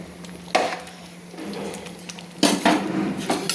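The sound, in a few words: potato stirred into rice and lentils in a cooking pot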